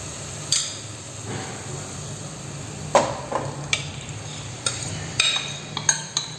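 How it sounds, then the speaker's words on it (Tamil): Cooked moong dal is stirred into fruits fried in ghee for a Tamil New Year mukkani paruppu payasam, with soft scraping and stirring, a faint sizzle, and a few sharp spoon knocks against the pan. "இப்போ இது கூட வந்து நம்ம பாசிப்பருப்பு வேக வச்சு வச்சுருக்கோம் இல்லையா, அதை இதில் சேர்த்துடலாம்."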